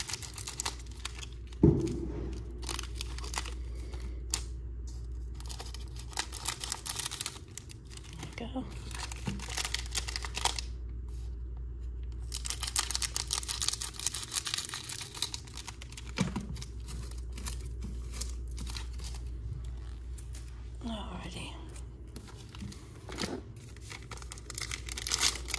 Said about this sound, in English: Finally learning to use the scissors instead of fighting with it.